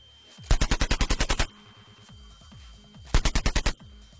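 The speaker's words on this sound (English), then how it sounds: "as it gets sprayed with bullets" Two rapid bursts of sound-effect gunfire spray bullets in a tabletop Shadowrun game session, each a tight string of about eight to ten loud, close shots separated by a quieter pause.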